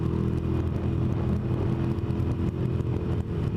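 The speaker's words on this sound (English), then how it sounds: "The exhaust sounds really good without the baffles in, especially in the tunnel." A motorcycle runs with its exhaust baffles removed, riding at night through a tunnel, giving a steady, loud, close engine drone with a rough clattering edge that never lets up.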